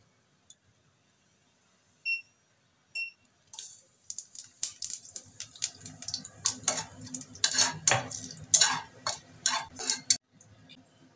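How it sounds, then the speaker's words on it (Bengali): Whole cumin seeds and dried red chilies dropped into hot oil left from frying lentil dumplings: a few isolated clicks, then a rising burst of sharp crackles and spits that fades to a light sizzle. "গোটা জিরে আর শুকনো লঙ্কা ফোড়ন দিয়ে দিচ্ছি।"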